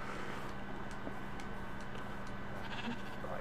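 Sheep bleating faintly in Minecraft survival mode, soft and distant over a low, steady game background, with no talk.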